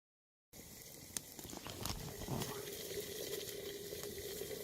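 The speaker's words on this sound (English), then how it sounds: "The water is boiling in that bottle nicely." Water boils in a bottle hung from a stick over a campfire, a continuous soft bubbling and patter with occasional pops and crackles, starting abruptly after a brief silence and holding steady.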